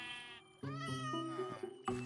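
A cat meows in the Minecraft video game with the Create mod, a few drawn-out harmonic mews in close succession, clear and fairly loud with no talk over them.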